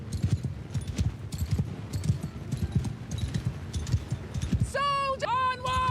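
Cavalry horses move in Old Realms with a steady run of hoof clip-clops close up. A horse lets out a sharp whinny near the end.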